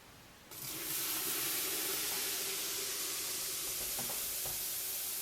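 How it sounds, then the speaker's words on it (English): Citric acid and bicarbonate fizz in a water distiller once warm water goes in. The sound rises quickly into a loud, steady, close hissing fizz with faint crackles underneath, and no talk. "With the warm water in, you should hear it fizz up like that."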